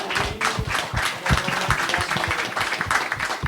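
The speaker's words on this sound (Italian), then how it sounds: "Allora facciamo un applauso." An audience applauds at an Italian-language talk event, a steady wash of many hands clapping throughout, fairly close and even in level, with little voice above it.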